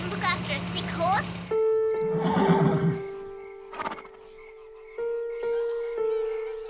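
A sick horse in an animated children's show gives a whinnying neigh near the start, followed by sustained musical tones and a few softer sounds.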